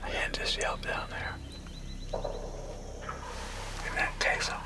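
A wild turkey gobbles in a spring woods, a rattling burst cutting through quiet outdoor ambience, with hushed talk from hunters close by before and after.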